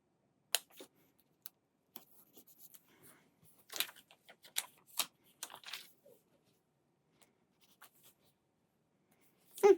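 An extra fine pen writes in a Hobonichi planner, giving faint, close, intermittent scratching strokes with short pauses and quiet handling noises, without talk.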